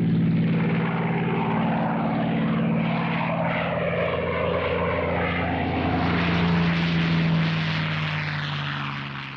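A P-51 Mustang propeller fighter plane's piston engine drones loudly and steadily with a deep throbbing hum, holding for several seconds before fading slightly at the end, with no speech.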